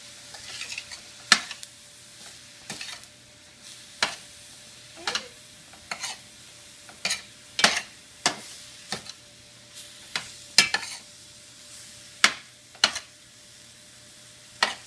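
Beef frying in a pan for stuffed bell peppers and being stirred, with a steady soft sizzle and regular scraping strokes of the utensil, one after another, close and fairly loud.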